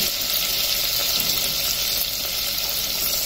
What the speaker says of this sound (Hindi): देखिए ये ऐसे चला रहे हैं हम ताकि ये नीचे लगे नहीं, अच्छे से भून जाना चाहिए